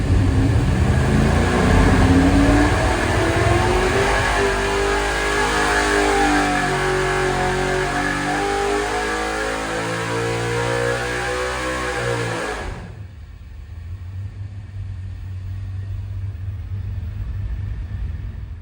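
A 540 cubic-inch big-block V8 screams under load on a dyno, its revs climbing steadily for about twelve seconds before cutting abruptly to a low, loud idle rumble.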